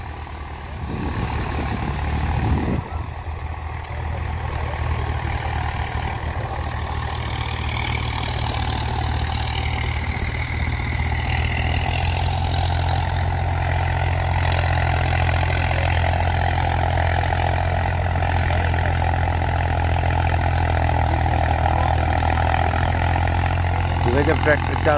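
Tractor engines idling loudly at a field demonstration featuring New Holland 3630, Eicher 485 and Mahindra 575 models, a deep, constant diesel rumble holding steady throughout with slight shifts in tone and a brief disturbance near the start.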